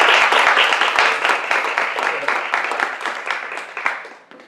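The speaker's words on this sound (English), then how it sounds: "let's give them a round of applause" Audience giving a round of applause for two radio show hosts at a live event, close and fairly loud clapping that gradually thins out and fades by the end.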